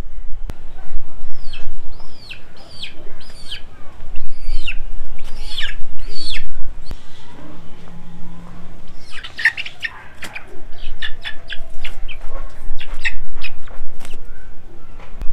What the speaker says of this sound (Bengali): আমরা নিচ থেকে টার্কি মুরগির বাচ্চাগুলো নিয়ে চলে এসেছি উপরে